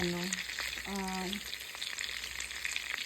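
Food sizzles steadily in a frying pan on a stove at lowered heat, a constant close crackling hiss with a couple of brief tonal beeps near the start and no talk.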